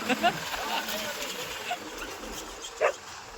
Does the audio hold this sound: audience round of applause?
no